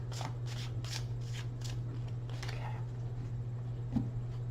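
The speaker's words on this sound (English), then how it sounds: "One more shuffle." Tarot cards are shuffled by hand in a quick series of crisp riffling bursts, close and fairly quiet, over a steady low electrical hum.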